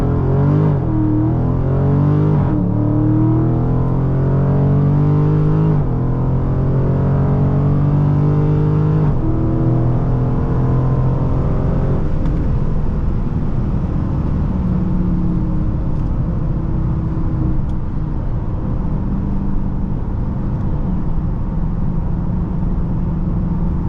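2022 Dodge Charger Scatpack 392 on a quarter-mile acceleration run, V8 roaring from inside the cabin and climbing through several gear shifts, each pull rising in pitch before easing into a sustained high-speed drone, no talking.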